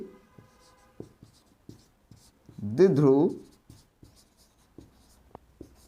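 Chalk or marker writing on a board during a physics lesson, a sparse series of soft taps and short strokes, broken once by a brief voiced sound midway.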